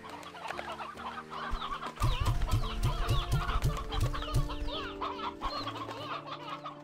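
Chickens in the video game Slime Rancher 2 cluck in a quick, repeated run of short, close clucks over steady, tonal in-game music.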